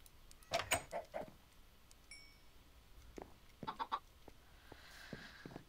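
Chickens cluck in short bursts in a Minecraft modpack game, a few quick clucks near the start and another cluster midway, fairly quiet over a faint background.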